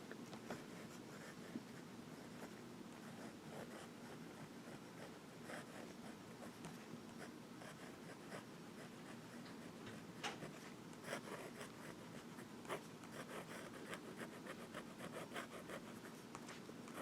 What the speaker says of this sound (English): And we'll do some writing real quick.